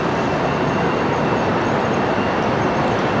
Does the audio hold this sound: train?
yes